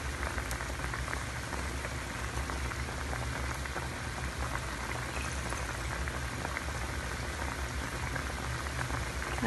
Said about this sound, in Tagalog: Ayan, kumulo na siya.